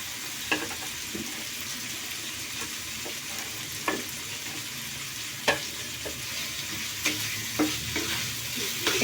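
Fried potato pieces stirred in a pan with browned spiced masala and salt: a steady sizzle under repeated sharp spatula knocks and scrapes against the pan, spaced a second or two apart.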